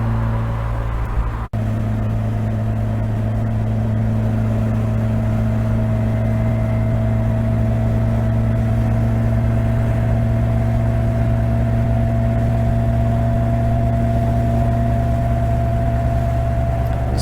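A vintage Toyota Celica TA22 with a 2TG engine on a road trip, its engine holding a loud, steady drone with a low hum and constant road roar from inside the cabin.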